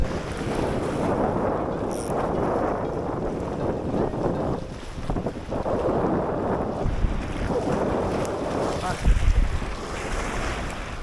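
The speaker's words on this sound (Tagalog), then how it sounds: "Lakas ng hangin sa lubong." Strong wind buffeting a fishing boat at sea, a loud, continuous roar of gusts against the microphone mixed with waves and water noise for about ten seconds.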